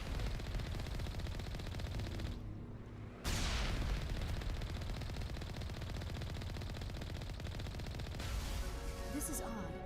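Automated turrets firing in Mass Effect 1, a steady stream of rapid gunfire and blasts sustained through the whole stretch, with a brief lull early on, loud and close under game ambience.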